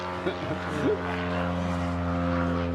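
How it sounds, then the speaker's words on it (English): A propeller airplane drones steadily overhead, a sustained humming tone that swells slightly, with brief talk-like sounds near the start. "Hang on, just while the plane drifts by."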